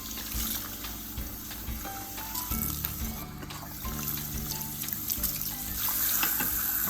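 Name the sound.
rinsing hair with water to remove nit oil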